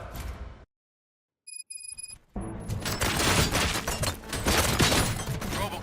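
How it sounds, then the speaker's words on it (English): Rapid bursts of gunfire with booms erupt after a brief silence and a few electronic beeps, loud and sustained like a firefight in the video game Robocop: Rogue City. "Gunshots? What's going on?"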